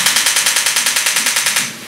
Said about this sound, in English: The MP100 is a radial shockwave unit with an integrated air compressor,